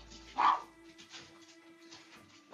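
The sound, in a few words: dogs barking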